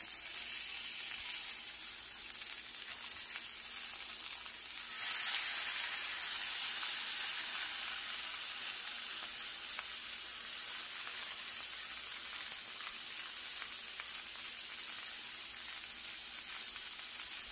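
Blackened chicken sizzles steadily in a pan, a continuous soft frying hiss that briefly swells louder around the flip before settling back to an even crackle.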